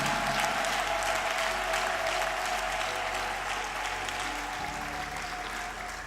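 Church congregation applauding during a deliverance prayer service, a dense steady wash of clapping that carries on evenly throughout at moderate level, with a low hum underneath.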